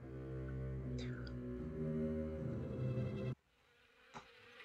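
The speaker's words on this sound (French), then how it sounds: "Frigo est scellé avec un nid de guêpes" Wasps buzz from a nest sealed inside a fridge in the horror game Harvester, a loud droning hum that cuts off abruptly, leaving quiet with a faint sound after it.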